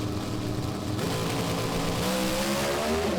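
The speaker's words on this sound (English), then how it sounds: "Revs come up, first gear, second gear, third gear, fourth gear." Pro Stock drag racing cars at Willowbank Raceway roar at high revs as they launch, one engine note climbing through successive gear changes, loud and continuous with no talk over it.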